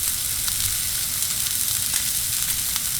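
Steaks and jalapenos sear in oil on a Blackstone griddle, giving a steady, close, loud sizzle with faint crackling pops and no talking.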